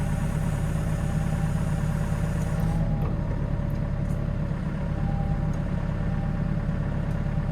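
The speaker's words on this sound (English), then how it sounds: "you can hear the engine load up more as well" A truck engine running steadily under hydraulic load, a loud continuous drone whose tone shifts slightly partway through as the load changes, with no talk over it.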